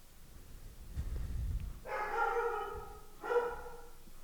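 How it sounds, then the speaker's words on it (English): A pet dog barks in a home, two loud bursts of barking with a low thump before them and no talking. "my dog going crazy"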